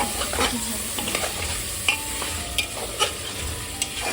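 Spices and egg being sautéed in a pan, with a steady sizzle and scattered scrapes of a stirring spoon against the metal. The cooking sounds are close and moderately loud, and no one speaks.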